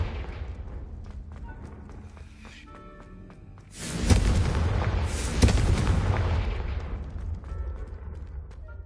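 Confringo explosive spell in Hogwarts Legacy, two heavy booming blasts a second apart with rumbling debris and crackle trailing off, loud against quieter game ambience.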